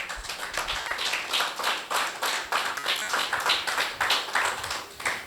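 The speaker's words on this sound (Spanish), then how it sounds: "Aplauso a Jesús." Applause from a church congregation during a Spanish-language sermon, a steady run of many hands clapping with regular rhythmic peaks as if clapping together, fairly close and filling the room, with no voices over it.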